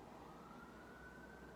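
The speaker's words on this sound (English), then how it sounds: "I don't know if you can hear like police cars going on down the road" Police car sirens wailing down the road, a faint, distant steady tone under low background hum, heard from indoors.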